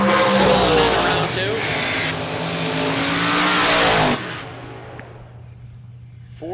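A drag race car at the Mutt and Jeff Fall Brawl revs hard and loud during a burnout, its engine note climbing before cutting off sharply and leaving a low idle rumble while an announcer talks.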